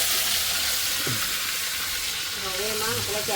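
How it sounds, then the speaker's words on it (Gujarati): Ginger-chili paste sizzles steadily in hot tempering oil for Kimi paneer bhurji, a continuous close frying hiss with a few faint voice-like tones in the background. "હવે એમાં નાખી દઈશું આદુ મરચાંની પેસ્ટ."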